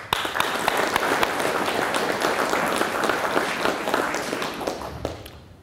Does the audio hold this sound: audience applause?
yes